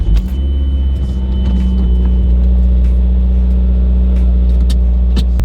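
A MazdaSpeed 3 drives after a spark plug change, its engine a loud, steady low rumble heard from inside the cabin with a slight swell early on and faint clicks scattered throughout.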